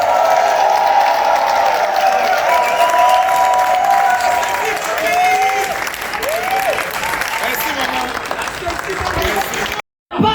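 Concert audience in Brussels claps and cheers loudly and steadily for the music, with whoops and calls rising over sustained applause, then a brief cut near the end.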